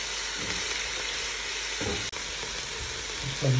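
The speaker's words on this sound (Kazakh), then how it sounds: "Мінекей сабызын салып қуырып жатырмыз" Carrots fry in oil for a Kazakh lentil soup, giving a steady close sizzle with soft stirring scrapes and a brief dropout midway, swelling slightly louder at the end.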